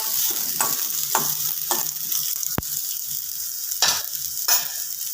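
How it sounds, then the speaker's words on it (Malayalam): Sliced onion frying in hot oil for a jackfruit-seed curry, stirred with a spoon that scrapes and knocks against the pan in irregular strokes over a steady sizzle. "എണ്ണ ചൂടായിട്ടുണ്ട്. അതിലേക്ക് സവാള ഇട്ട് കൊടുക്കാം. ഇളക്കി കൊടുക്കാം."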